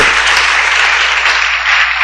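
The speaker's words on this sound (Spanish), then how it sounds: "Dele un aplauso al Señor por ese gobierno." A crowd claps loudly and steadily, a dense wash of applause with no pauses.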